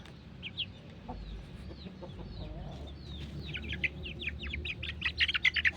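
Chickens cluck and chirp around a breeding pair, with the father standing nearby and the mother sitting on eggs. Soft scattered calls build into a denser run of sharp chirps and clucks toward the end, fairly close, with no talk.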